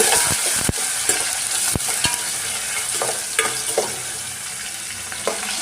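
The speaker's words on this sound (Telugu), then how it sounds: "ఉల్లిపాయలు వేసుకున్నాము ఇప్పుడు ఒకసారి కలుపుకున్నామండి బాగా" Sliced onions and green chillies being stirred in hot oil in a pan, with a steady loud broadband sizzle and several sharp scraping and clacking strokes of the spoon against the pan.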